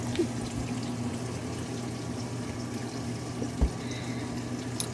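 Water runs into a washing machine drum as it fills, a steady low pouring rush with a faint hum and occasional small splashes, continuous and fairly close, with no voices.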